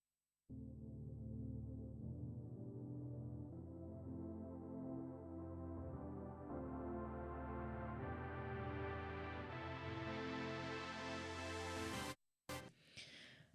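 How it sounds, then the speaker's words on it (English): Sawtooth synth chords in an electronic track build-up, stacked and sustained while a filter sweep rises steadily over about twelve seconds before a sudden cut, then a brief choppy tail. "using a saw synth. So these chords sound like this."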